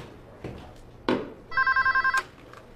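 A mobile phone rings close by with a short burst of rapid, evenly pulsing electronic tones, preceded by a couple of faint knocks and rustles.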